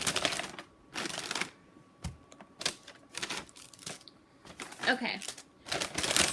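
Plastic packaging crinkles and rustles in several short bursts between pauses, up close, with a voice speaking briefly.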